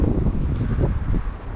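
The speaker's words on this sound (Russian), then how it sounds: "Ветер, конечно, сильный." Strong outdoor wind buffets the microphone in a steady, low roaring rush with gusty swells and no clear pauses.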